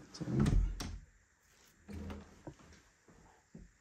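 Small cupboard door in an abandoned house opened with a couple of soft wooden thunks and knocks, fairly close in a quiet room, followed by lighter taps and rattles.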